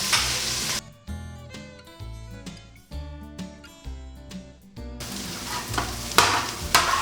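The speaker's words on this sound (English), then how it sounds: "Next, we're going to put some olive oil in the pot. And add the onions." Onions fry in olive oil in a pot for a poblano turkey chili, bursts of bright sizzle alternating with quieter stretches, punctuated by clunky stirring and scraping sounds up close.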